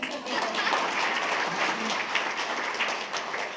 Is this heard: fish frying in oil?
no